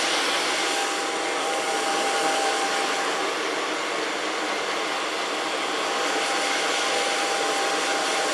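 A hair dryer runs continuously close by, a loud even whoosh of hot air as a hairdresser dries dyed yellow hair during a salon makeover, with no voices.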